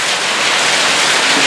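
Heavy rain mixed with hail pours down in São Paulo, a loud, dense and steady hiss of water and ice hitting surfaces close by, unbroken throughout with no voices.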